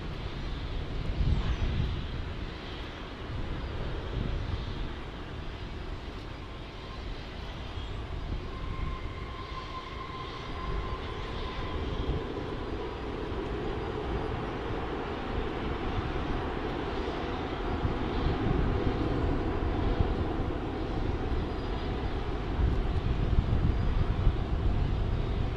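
An American Airlines Dreamliner jet arriving from Frankfurt at DFW airport produces a broad, steady engine roar that swells slowly and grows louder toward the end, heard from a distance without talking.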